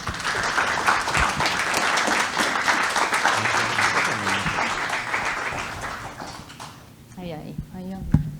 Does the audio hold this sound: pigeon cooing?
no